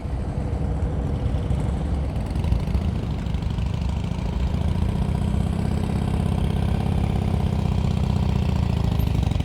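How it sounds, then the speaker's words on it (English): A Harley-Davidson motorcycle engine runs at low throttle during slow-speed riding practice in Texas, a steady, loud, rough low rumble that shakes and knocks continuously throughout, with no talk over it. "The whole bike shaking, throttle's too low."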